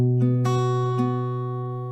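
Acoustic guitar picking a barred fingerstyle pattern, with a few clear plucked notes ringing over a sustained chord, close and clean, gradually decaying, with no talking.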